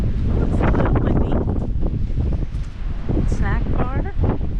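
Steady wind buffets the microphone outdoors at Pine Grove Furnace State Park, a low rumbling roar beneath talking voices throughout.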